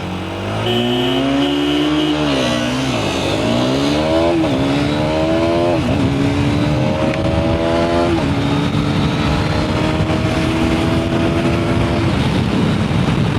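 A 2026 KTM Duke 250 or Hero Xtreme 250R roars as it launches in a road drag race, then climbs through several gear changes, each shift marked by a rising pitch that drops and builds again, loud and close.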